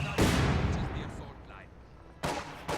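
Mortar and gunfire blasts in a World War II strategy video game: a loud explosive burst rings out and decays slowly, then a second sharp blast hits near the end, with voices faintly underneath.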